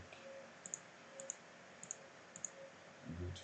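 A computer mouse clicks faintly at a desk during Revit software work, sounding as four paired clicks at a steady pace over a quiet background hum.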